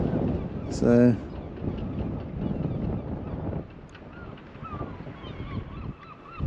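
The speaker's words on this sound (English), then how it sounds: "it's very windy, as you can probably note out here" Strong wind buffets the microphone on a waterfront walkway by the Cremyll ferry at Royal William Yard, Plymouth, a steady rough rumble that continues under the voice. A brief honk-like call comes early on.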